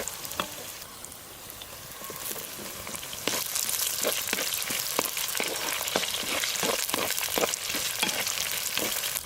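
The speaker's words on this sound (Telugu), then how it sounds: "ఒక 2 నిమిషాలు పచ్చిమిర్చి వేసిన తర్వాత టమాటాలు కూడా వెంటనే వేసుకుందాం." Green chillies fry in hot oil for a Nellore-style fish curry, a dense crackling sizzle that grows louder partway through, with rapid popping spatters close by.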